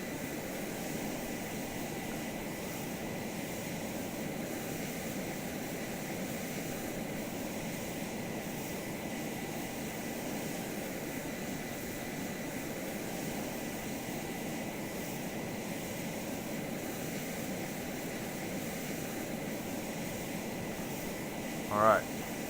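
F/A-18X Black Wasp jet taxiing in the ARMA 3 video game, a steady low engine whine and hum held evenly for over twenty seconds, with a brief beep near the end.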